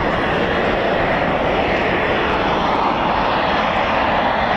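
A Eurofighter Typhoon FGR4 jet engine starts up at RAF Coningsby, a loud steady roar that holds constant throughout with no voices over it.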